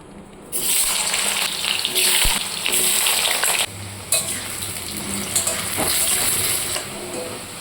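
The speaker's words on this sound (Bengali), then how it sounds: "সর্ষের তেলের মধ্যে প্রথমে ডুমো করে কেটে রাখা আলুগুলোকে ভেজে নিচ্ছি" Diced potatoes frying in hot mustard oil give a steady, loud sizzle that runs almost the whole time, with a brief quieter start and small crackles and pops on top.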